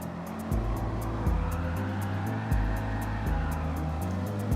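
Chevrolet Corvette in Gran Turismo 7 accelerating hard with wheel spin, its engine note stepping up through several quick gear changes in a steady, loud, close drone.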